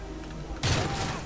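Gunfire in the video game Call of Duty Modern Warfare 3, heard as a sudden loud burst of shots that starts partway through and continues to the end after quieter game ambience.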